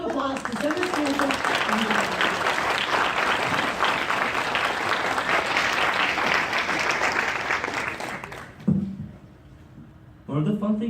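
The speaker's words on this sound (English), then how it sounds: "let's give a round of applause to Senator Stephenson" An audience at a museum association public service award ceremony claps in a loud, sustained round of applause for about eight seconds. It then cuts off sharply, leaving a brief quiet spot with a voice speaking.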